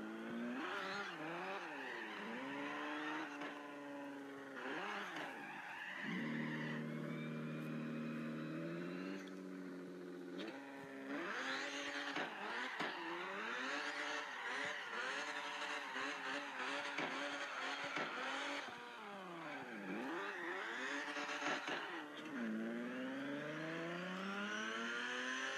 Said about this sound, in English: The engine handles over-revving very well. The rev's pretty high, too.